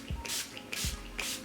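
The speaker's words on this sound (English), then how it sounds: "And now I'm taking the Urban Decay All Nighter Spray." Urban Decay All Nighter setting spray misted from a pump bottle: three short, close hissing sprays at an even pace, each starting with a soft click of the nozzle, with no talking.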